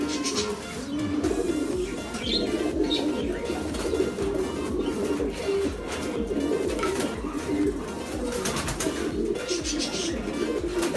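Racing pigeons in a loft coo steadily through a dense wash of background noise, their low murmuring calls repeating without a clear break.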